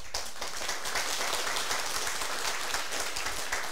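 Audience clapping in a lecture hall during a seminar session, a fairly soft, dense patter of many hands sustained evenly throughout.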